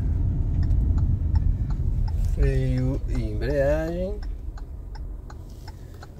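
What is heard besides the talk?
car turn signal ticking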